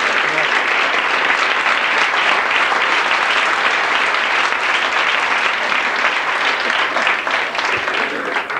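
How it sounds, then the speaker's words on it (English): Banquet audience at a 1991 Washington Day dinner breaking into sustained clapping, a dense, loud wash of applause lasting several seconds before tapering slightly at the end. "let's give him a big round of applause"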